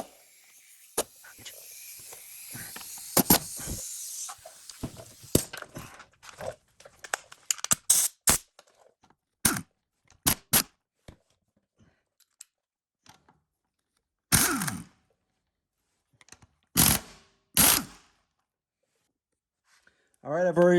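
A ratchet removes cam cover bolts on an Indian Sport Chief motorcycle, giving sparse, sharp clicks and short ratcheting bursts with quiet gaps between; a person talks at the start.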